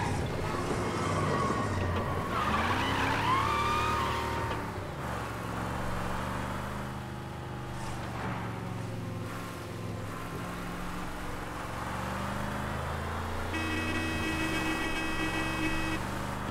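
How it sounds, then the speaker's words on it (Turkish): Fast car racing along in Mafia: Definitive Edition, a steady engine drone with shifting pitch and tire skids, horn-like tones and game music layered on top, loud and continuous throughout. "Abi araba çok hızlı."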